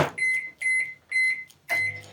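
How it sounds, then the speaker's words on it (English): A microwave oven is being set: four short, bright electronic beeps sound at an even pace, close and clear, with no voices. "pop that in the microwave for 30 seconds"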